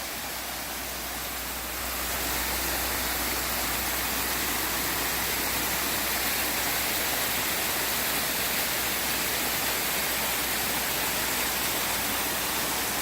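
Rattler's Den waterfall near Hot Springs in western North Carolina pours steadily, a broad, continuous rushing roar that swells slightly after the first two seconds and holds even and close with no voices.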